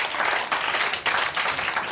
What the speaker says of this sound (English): Ladies and gentlemen, round of applause for Janet Street Porter.